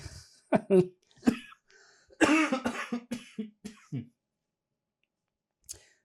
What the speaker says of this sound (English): the cough is the only thing that hasn't gone away